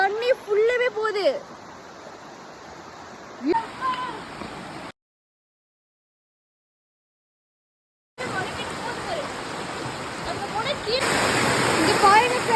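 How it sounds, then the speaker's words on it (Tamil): Water rushes down a stream with a steady broadband roar, loud and close, with a silent gap in the middle; people speak over it at the start. "தண்ணி ஃபுல்லாவே போகுது"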